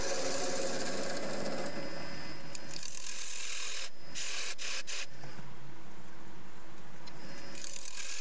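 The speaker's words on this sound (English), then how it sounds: "here I am with my quarter inch spindle gouge. I'm just very gently evening up the top" A quarter-inch spindle gouge gently evens up the rim of a spalted silver birch bowl spinning on a Record Power CL3 lathe, giving a quiet, continuous rubbing and scraping with a few brief pauses.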